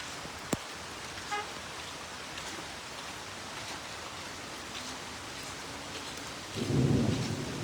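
Soft, steady rain falls throughout, and a low roll of thunder swells near the end over the constant hiss.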